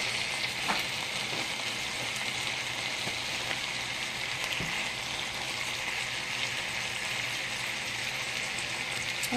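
Ground turkey breast fries in a pan for turkey chili, a steady dense sizzle that holds evenly throughout with a few faint stirring scrapes and no talk.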